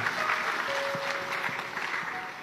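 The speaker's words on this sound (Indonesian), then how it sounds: "Tepuk tangan buat bapak-bapak utamanya." Audience applauding the fathers at an indoor parenting talk, a steady close wash of clapping that fades slightly toward the end.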